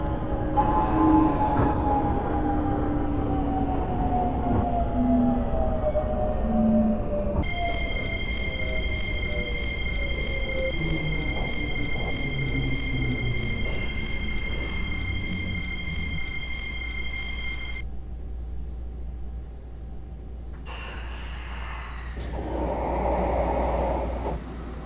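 A Cool Metro Line 1 subway train bound for Hanam runs in Seoul with a loud, steady rumble and rolling noise. High motor whines rise and fall, and a sustained electronic tone enters midway.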